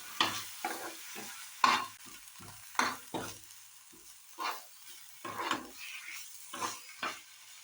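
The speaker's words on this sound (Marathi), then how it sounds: "तर आपण वाटण पण मिक्स करून घेऊया." Coconut, dry coconut and onion masala paste being stirred in a frying pan for a Konkan-style cashew curry, with repeated scraping and mixing strokes at an uneven rhythm, close and moderately loud, no talking.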